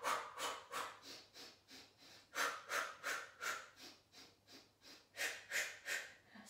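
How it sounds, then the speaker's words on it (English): Pulsating breathing during a Pilates exercise, quick rhythmic puffs of breath in short bursts of three or four, close and soft, with brief pauses between the groups. "Don't forget to use the pulsating breath if you can."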